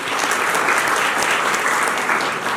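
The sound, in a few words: applause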